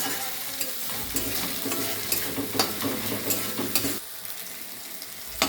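Spiced paste for a Bengali chicken curry sizzles and fries in a pan while a spoon stirs it with steady scraping strokes, close and fairly loud throughout, dipping slightly toward the end.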